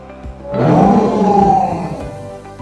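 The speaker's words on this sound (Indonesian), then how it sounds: "ada seekor singa yang mendatangi Simson dengan mengaum sangat keras" A lion roaring very loudly as a sound effect: one long, deep, rumbling roar that swells quickly, holds for over a second and fades, close and dominant.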